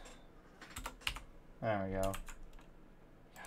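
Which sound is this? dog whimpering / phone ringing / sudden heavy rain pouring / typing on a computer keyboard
typing on a computer keyboard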